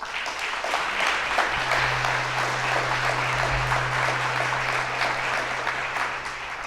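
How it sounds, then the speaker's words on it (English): Applause from the audience at a mayor's State of the City address, a dense, sustained roar of many hands clapping throughout, with a low steady hum underneath. "and that deserves a round of applause."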